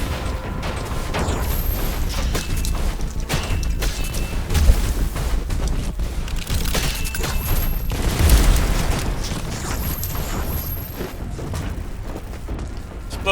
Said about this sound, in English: Exploding barrels in this game are nowhere near as potent as they are in most video games